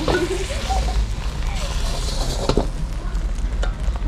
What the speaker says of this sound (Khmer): ឥឡូវនេះចុងភៅកំពុងតែជៀនពង